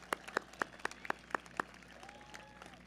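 Sparse claps ring out at the Brookline High School 2022 graduation: about seven distinct, evenly paced hand claps, close but quiet, then a faint trailing murmur.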